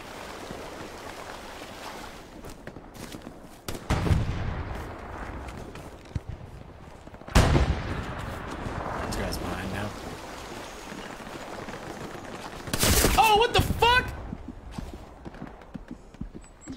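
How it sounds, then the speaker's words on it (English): Explosions and gunfire in the military shooter ARMA 3 during a river crossing: several sharp blasts stand out at intervals over a steady background of water and movement noise, with one longer, louder burst late in the stretch. "Some explosions here and there."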